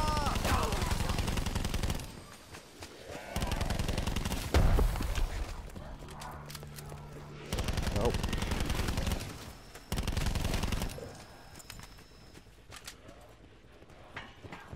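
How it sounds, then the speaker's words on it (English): Black Ops 4 zombies gunfire comes in dense, loud automatic bursts separated by quieter gaps, the sustained volleys returning several times. "I am burning through ammo right now"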